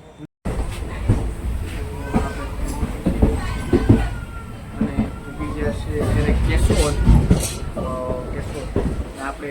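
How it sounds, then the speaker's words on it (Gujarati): A train pulling into Chorvad Road railway station gives a steady rumble with clanks and rattles, heard close by under noise from the platform, with voices in the background. "હવે ટ્રેન આવી એટલે હળહળ આવી જઈએ આપણે અમદાવાદ"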